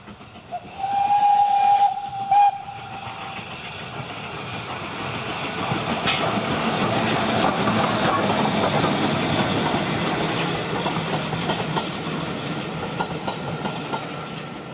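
An LB&SCR H2 class steam locomotive sounds a clear whistle in two short blasts, then chuffs and rolls past with a steady rumbling and clanking that swells and lingers, no voices.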